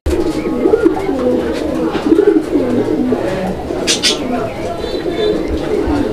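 A pair of White Beauty Homer pigeons coos steadily up close, with soft low calls repeating throughout while voices talk over them.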